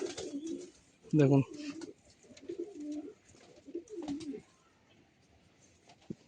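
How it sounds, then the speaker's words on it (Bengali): Fulsira pigeons coo in a loft, one loud burst near the start and softer repeated coos after, with someone speaking briefly over them. "দেখুন পায়রার শখ করুন, এও ফুলশিয়া পায়রা।"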